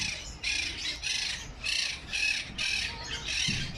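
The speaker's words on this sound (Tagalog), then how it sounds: "Yung mga pikoy. Yung mga parrot naman." A flock of parrots at Riyadh zoo keeps up loud, harsh squawking bursts in a regular rhythm, close to the listener and with no voices.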